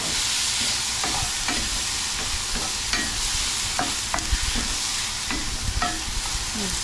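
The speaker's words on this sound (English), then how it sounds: "there ain't nothing that tells any better than bacon and onion frying on the pan." Steady sizzling of bacon and onion frying in a skillet, with occasional scraping and stirring clicks, close and continuous with no voices.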